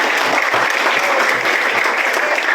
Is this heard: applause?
yes